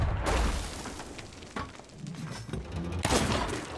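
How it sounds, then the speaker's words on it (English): Booming cannon blasts and crackling explosions roll together in a busy, chaotic Sea of Thieves battle, several heavy thuds scattered over the noise. "Follow the sound of the cannons firing."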